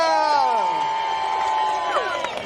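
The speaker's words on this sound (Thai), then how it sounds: "ปรบมือให้กับตัวเองด้วย" An audience cheers an award win, with a steady, loud mass of shrieks and rising and falling whoops overlapping one another, and scattered clapping buried underneath.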